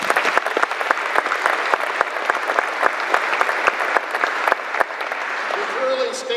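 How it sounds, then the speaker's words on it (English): An audience at a military change of command ceremony for the 317th Airlift Wing applauds, a dense wash of clapping with some sharper individual claps standing out, tapering off near the end as a faint sound intrudes. "Let's give them a round of applause."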